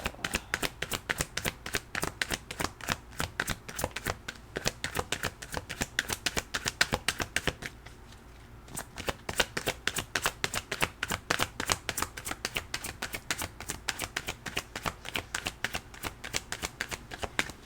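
Oracle cards being shuffled by hand, a close, fast and steady stream of crisp riffling flutters with one short pause midway, no voices.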